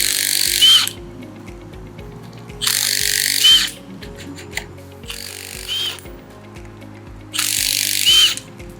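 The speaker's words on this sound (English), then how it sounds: "Now we're going to shear the first shear bolt head off." A power tool on a Sicame MecaSplice mechanical tension repair splice shears off the shear bolt heads in a yard install, giving four loud bursts of high whining drive with quieter mechanical rumble between them and no talking.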